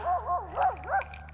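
A dog at a bass lake gives a short run of three wavering barks and yips, close and clear over a low constant background hum.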